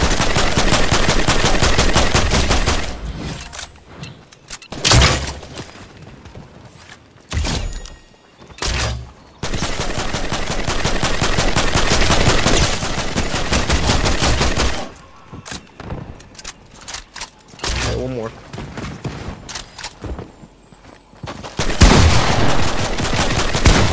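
Heavy, loud sustained automatic gunfire in Fortnite, coming in long dense bursts with short gaps, close and dominating throughout.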